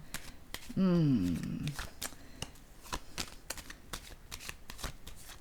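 Tarot cards are shuffled and laid down close by, with crisp riffling, sliding and soft slaps of card stock on a table, and a brief voice early on.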